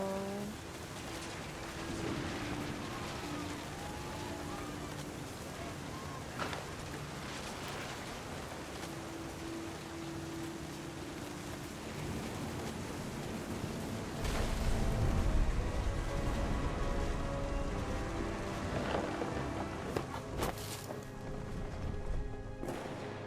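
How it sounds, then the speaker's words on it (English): Rain and thunder from a storm in the video game What Remains of Edith Finch: a steady wash of rain runs throughout, with a heavier rumbling swell near the middle and faint tones beneath. "The thunder sounded much too close and full of angry power."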